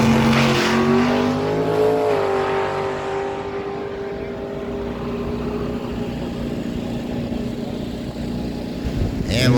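A nitrous-sprayed 2002 Chevrolet Camaro drag car with a 598 cubic inch big block roars loudly at a dragway, its engine pitch rising steadily and then holding a sustained blaring howl as it launches and pulls away.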